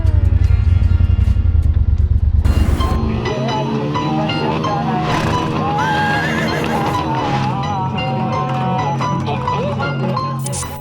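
A horse lets out a loud, shrill neigh over a deep rumbling motorcycle engine, with a second whinny rising mid-way through the noise.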